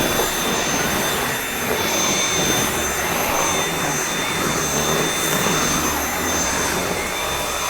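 A cordless vacuum cleaner runs steadily at close range aboard a boat, a loud whirring whine with a constant high motor tone and no voices.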